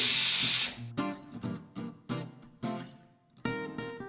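A pressure cooker holding turmeric and a little castor oil lets out a short, loud burst of hissing steam, which cuts off within a second and is followed by a series of brief tonal pulses.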